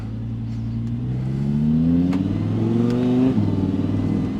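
A supercar in manual mode revs hard as it accelerates, its engine note climbing in steady loud sweeps toward a high-rpm peak, then a brief shift dip before it pulls up again, close and alone without talk.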